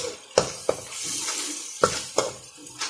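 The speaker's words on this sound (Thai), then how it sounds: "แล้วเราก็ใส่นี่นะคะน้ำปลา ให้เขาร้อนเลยค่ะ" A stir-fry of chili, water spinach and minced chicken sizzles steadily in a pan as fish sauce goes in, with several sharp clinks of a utensil against the pan at irregular intervals.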